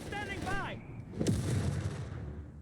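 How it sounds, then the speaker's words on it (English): Gunfire from a machine gun team backed by Grenadiers in the real-time strategy game Company of Heroes 3, heard as distant rattling bursts and booms under a continuous battle din, while a commentator speaks over it. "Machine gun there with Grenadier support moving in."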